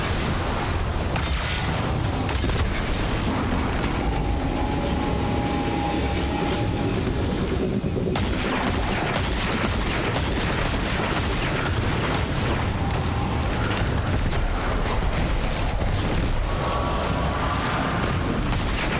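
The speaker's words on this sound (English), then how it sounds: "That's a lot of exploding." Explosions and gunfire in a Destiny 2 Crucible Mayhem match, with dense, continuous booms and rattling bursts layered over a loud, busy game soundscape for the whole stretch.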